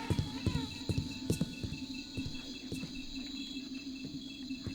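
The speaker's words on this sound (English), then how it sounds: "We want to head toward the bugs, the bees." Insects buzz and chirp in a forest area of the Thief 2 video game, a steady droning chorus with repeated soft pulsing clicks underneath, fairly close and continuous without talk.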